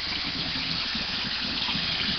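Steady gush of running water rinsing out chewing tobacco, a constant close splashing flow with no pauses and no voices.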